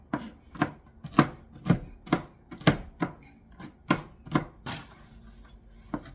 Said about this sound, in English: So then I've just chopped these up pretty fine as well.